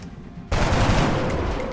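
A loud, dense burst of gunfire from a soldier in XCOM: Long War erupts after a quiet moment and continues steadily to the end, with rapid overlapping shots and a bright crackle near the close.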